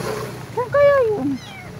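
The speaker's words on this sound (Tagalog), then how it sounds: "May pusa." A single drawn-out cat meow, clear and fairly close, rising then falling in pitch, over faint background noise.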